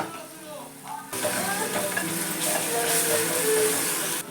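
Goat mutton and onions frying in a pan: a steady, hissing sizzle that starts abruptly and stays loud and continuous, with a voice talking over it.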